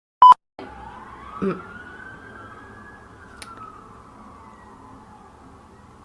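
A single emergency siren wails, slowly rising and falling in pitch at moderate volume, framed by a couple of sharp clicks.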